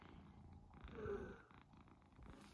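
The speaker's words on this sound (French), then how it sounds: "Entendez comment il ronronne?" A contented domestic cat named Yellow purrs softly and steadily at close range, a faint low rumbling continuous throughout, in a quiet room.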